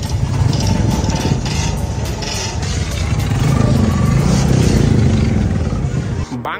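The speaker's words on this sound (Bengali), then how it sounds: "এই বাইকের স্টক এক্সজস্টের সাউন্ড শুনে আমার বেশ ভালো" Stock exhaust of a Royal Enfield Classic 350 motorcycle, a steady loud engine rumble running throughout with a slight swell midway and a brief dip near the end.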